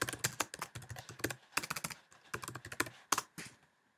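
Rapid clatter of typing on a computer keyboard while renaming a rotary control, with bursts of close keystrokes broken by short pauses and trailing off into quiet at the end.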